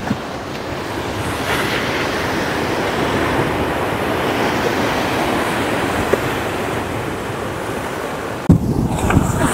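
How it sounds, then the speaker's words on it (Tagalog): Steady, powerful roar of strong surf crashing at a beach near a sea wall, with wind buffeting the microphone, continuous and loud throughout. "Dito po ay sobrang lakas po ng alon"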